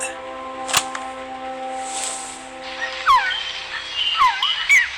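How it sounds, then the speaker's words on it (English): A recorded jungle bird call from the game Metal Gear Solid Peace Walker: sharp whip-like cracks and rising whistled chirps repeating over a faint, steady hum. "She went out into the jungle to record bird calls and stumbled upon this."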